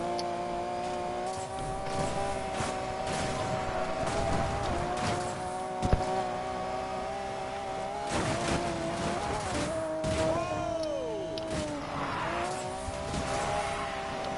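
Race car in Need for Speed Payback, a steady loud engine drone that shifts pitch through gear changes, with brief tire squeals and skids, close and continuous, with no talking.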